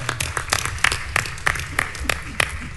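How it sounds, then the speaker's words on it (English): Crowd applause at a National Action Network political rally, a burst of scattered, uneven clapping with sharp individual claps standing out, fairly close and loud, alone without talk. "Y'all, we can clap for that."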